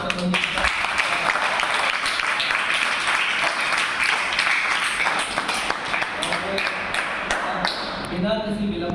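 An audience at a drama and theatre department talk on censorship in theatre and cinema breaks into sustained, dense applause welcoming a speaker, with the clapping filling the room steadily before tapering off near the end.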